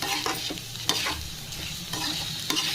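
Taro (colocasia) pieces fry in a pan with a low, constant sizzle, broken by several short scraping stirs at an uneven pace, close by and fairly quiet.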